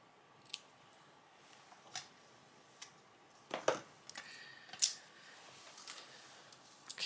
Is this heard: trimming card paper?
yes